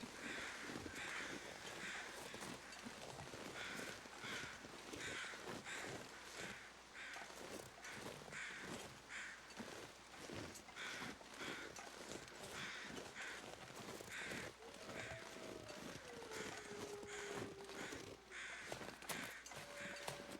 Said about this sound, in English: Oh, crows.